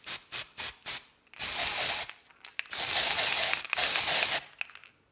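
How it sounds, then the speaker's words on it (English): Glitter hairspray hisses from an aerosol can in several short bursts, close up, after a few quick clicks and rattles. "Let's just set everything with a little glitter hairspray."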